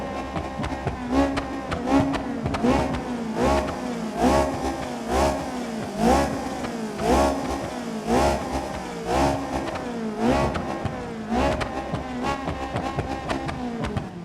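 Sunburst car in the BeamNG Drive video game revving its engine repeatedly, a steady series of loud, rhythmic rev bursts rising and falling over a continuous engine drone.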